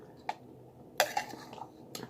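Spoon knocking against a pot while stirring chana masala with diced tomatoes and their juice: a few sparse, light metallic clinks and scrapes at low level, separated by quiet gaps.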